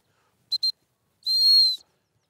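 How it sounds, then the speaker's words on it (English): A dog-training sit whistle gives two quick short pips, then after a pause one longer sustained blast. The shrill tone is high and clear against silence. "Called her to me as I blew the sit whistle."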